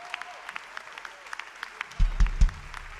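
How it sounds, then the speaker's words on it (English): At a university welcome event, sparse scattered claps from a small audience greet Tiago and the Nação Valente, with a few isolated hand claps followed by three heavier thumps near the end. "So a big round of applause for Tiago and the Nação Valente."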